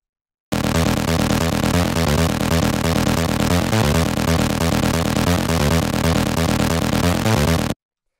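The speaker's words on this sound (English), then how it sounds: "Then we have the lead bass, which sounds like this." A lead bass synth from a hard rave techno track pounds in a dense, fast repeating loop, loud and driving with punchy low hits, starting and stopping abruptly.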